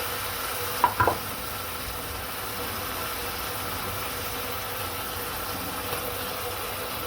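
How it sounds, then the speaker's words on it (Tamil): Tomatoes and green chillies fry in a pan while being stirred, giving a steady low sizzle with a brief clatter of the spoon near the start, no voices. "இப்போ இது கலர் சேஞ்ச் ஆகிற வரைக்கும் நல்லா கிளறி விட்டுக்கிட்டே இருப்போம்"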